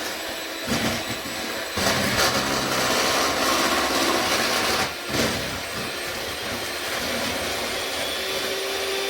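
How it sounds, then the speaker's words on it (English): An electric hand mixer creaming butter and sugar for banana pudding cookies, a continuous whirring buzz with rough scraping texture, close and loud, with short dips where the beaters pause. "We're going to get our trusty little mixer out."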